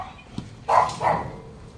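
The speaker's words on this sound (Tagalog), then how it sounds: "Tatapang ng aso." A dog barks twice in quick succession at a house construction site, moderately loud and close, with quiet background ambience before and after.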